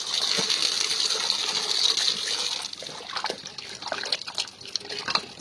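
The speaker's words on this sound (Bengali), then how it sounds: "এবার জলে ধুয়ে ফাইবারটা বের করে দেবো" Soaked flour dough is rinsed and squeezed in a bowl of water to wash out its fibre, giving steady close sloshing and trickling at first, then looser splashes and drips that fade out.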